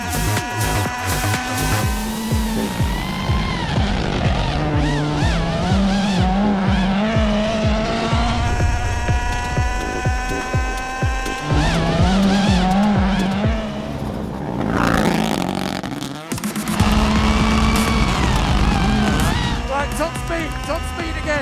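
A rally car races at speed on a two-lap sprint course, engine revving hard through repeated gear changes and tyre squeals, loud and close, with excited shouting over it.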